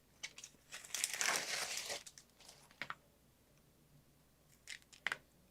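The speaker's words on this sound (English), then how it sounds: "So we're now going to just peel off that fabric." Fabric being peeled off a cutting mat for a Brother ScanNCut machine, a close crinkly rustle lasting about a second, then a few lighter tearing crackles near the end, with no talking.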